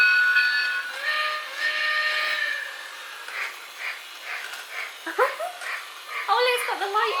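Battery-operated Lionel Polar Express toy train switched to its sound setting gives out a high, harmonic whistle-like tone, then chirping electronic effects, with people talking over it.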